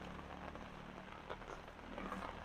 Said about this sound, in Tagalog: Perting ulan na oh